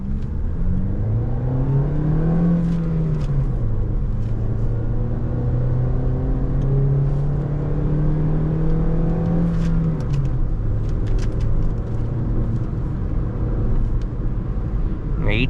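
A Honda Amaze 2024 facelift with a 1.2-litre naturally aspirated petrol engine accelerates, its steady cabin-heard engine drone rising and falling in pitch through gear changes, continuous and close, with faint speech beneath.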